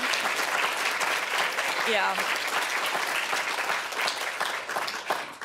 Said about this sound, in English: maybe we can just break into a round of uproarious applause for them